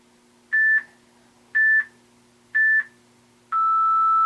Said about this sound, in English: That beep means less than 10.